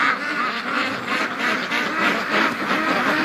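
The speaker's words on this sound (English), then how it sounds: "Yes, I know ducks." Free-range ducks near an iced-over lake quack in a close, dense, overlapping chorus, steady and fairly loud over a few seconds.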